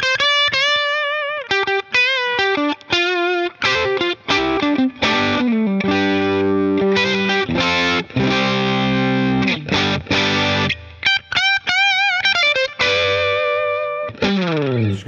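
Electric guitar runs through a vintage-style RYRA pedal, playing fast higher-pitched melodic phrases with a driven, slightly distorted tone, loud and close, with short gaps between bursts of notes. No talking over it.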